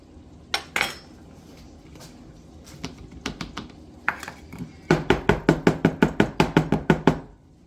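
Ingredients being tamped down inside a glass gift jar of dry baking mix, starting with a few scattered knocks and then a quick, steady run of about a dozen sharp, close taps that ring like a utensil on glass.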